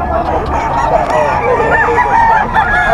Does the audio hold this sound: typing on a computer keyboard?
no